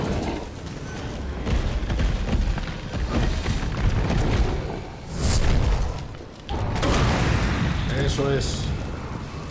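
Booming fire grenade explosion bursts from Resident Evil 3 Remake, with a voice talking in Spanish over the noisy, rumbling action.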